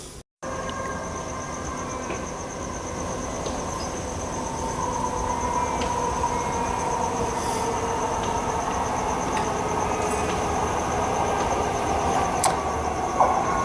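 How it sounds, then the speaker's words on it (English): A Transperth 3-car B series electric train rolls in steadily, a continuous loud rumble of wheels and motors with faint high squeals and ticks, no talking. "here is our train, 3-car B series today"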